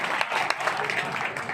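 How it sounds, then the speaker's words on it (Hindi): An audience at a humorous Hindi poetry gathering claps, a short burst of steady, moderately distant applause from a crowd. "एक बार जोरदार तालियां बजाइए।"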